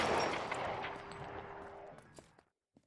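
L.A. Noire shootout with a loud burst of gunfire that decays over a couple of seconds, followed by a few faint clicks in near silence.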